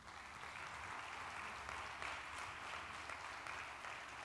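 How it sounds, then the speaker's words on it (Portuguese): Steady, sustained clapping from a large church congregation, even and continuous throughout with no voices over it. "Dá um aplauso para Jesus."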